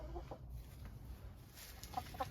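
Hens clucking in a henhouse during cleaning, soft scattered clucks and short calls near the microphone over low rustling background, no talk.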